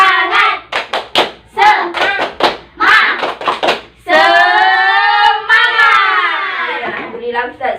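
In a primary-school Islamic religious education lesson, a class claps out a quick rhythmic pattern of sharp hand claps, then breaks into a loud, drawn-out group chant, with a few more claps near the end.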